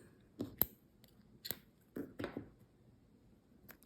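Scissors cutting crochet yarn, a handful of crisp close snips spaced irregularly over a few seconds against near silence, quiet and alone without talking.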